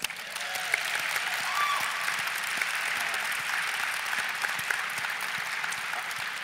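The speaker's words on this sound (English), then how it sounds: "Give a round of applause." A conference audience breaks into applause, a steady wash of many hands clapping at moderate volume for several seconds with no talk over it.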